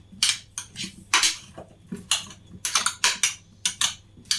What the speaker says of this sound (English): I've got my chopped red onions. I'm gonna mix everything together.